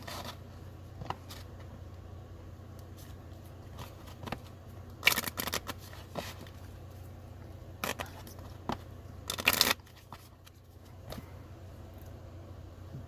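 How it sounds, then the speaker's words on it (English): Someone shuffles a deck of WorldBreakers cards at close range. Soft riffles and a couple of sharper bursts of rapid flicking are scattered over a quiet room hum. "Draw 5, shuffle up."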